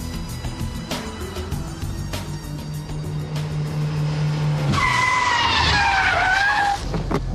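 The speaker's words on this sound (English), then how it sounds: "the handbrake turn followed by reverse flick, and the Scandinavian flick followed by lift-off oversteer." A Ford Puma drifting through handbrake turns and Scandinavian flicks: a steady engine drone builds, then tyres break into a loud, wavering squeal for about two seconds before easing off.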